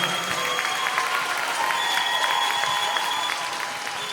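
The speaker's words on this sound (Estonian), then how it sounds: "Suur aplaus kõigile!" A crowd applauds at a spring dance show, with dense, continuous clapping that fills the hall for several seconds, mixed with faint cheers and tonal whistles, then eases slightly near the end.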